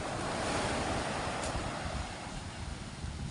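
Ocean surf rolls steadily onto the shore, a continuous broad wash of breaking waves with wind rumble on the microphone, no voices.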